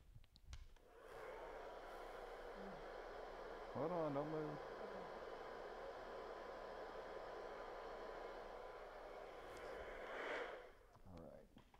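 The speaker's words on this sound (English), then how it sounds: "Blow dryer time." A blow dryer runs steadily, drying hair after a fringe and bangs haircut under hot studio lights, with a continuous airy whoosh throughout and a brief spoken instruction over it.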